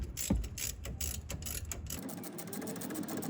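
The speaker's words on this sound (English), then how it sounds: "We'll use the 3/8-inch US-made ratchet with the 14mm socket to get rid of the bolt on the" A 3/8-inch US-made ratchet with a 14mm socket backs out a brake caliper bolt, giving rapid close mechanical clicking and ratcheting for about two seconds, then a quieter metallic rattle and handling noise.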